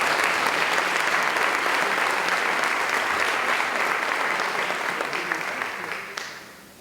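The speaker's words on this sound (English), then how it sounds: "So let's give them a round of applause." A hall audience gives a loud, continuous round of applause at a county customer service awards ceremony, steady throughout before tapering off in the last second.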